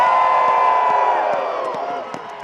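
A huge crowd cheers and whoops loudly at the Groundhog Day ceremony at Gobbler's Knob in Punxsutawney, Pennsylvania, a dense roar of voices that slowly fades, with a few sharp shouts near the end.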